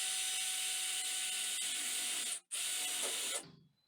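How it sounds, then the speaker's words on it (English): Power drill boring a hole into a wall stud, a sustained high whine that dips for an instant, then resumes before winding down abruptly at the end. "so I'm going to drill here a hole."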